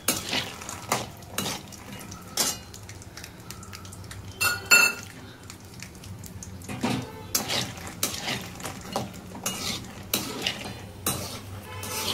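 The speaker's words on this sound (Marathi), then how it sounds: "बदाम आपण छान असे खरपूस भाजून घ्यायचे आहे, तळून घ्यायचे आहे तुपामध्ये" Almonds frying in ghee crackle steadily while a spoon clatters and scrapes around the pan in frequent sharp strokes, close and busy throughout with a low sizzle beneath and no voice.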